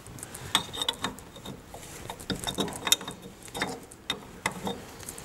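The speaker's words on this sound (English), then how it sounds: "I'm using an open-ended spanner." A rear brake adjuster on a Triumph Spitfire Mk1 or Mk2 being turned with a 10mm open-ended spanner, giving close, irregular metallic clicks and ratcheting taps in quick clusters.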